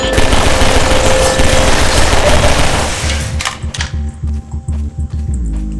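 Rapid gunfire in Half-Life 2, a dense, loud burst of shots for about three seconds, then a few separate sharp reports trailing off.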